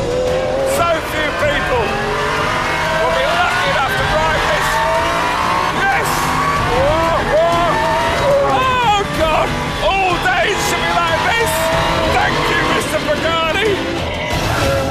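A 750-horsepower Pagani Zonda R race car accelerates hard on a mountain road, its engine note climbing and dropping through gear changes with a loud, sustained, close roar, while someone talks over it.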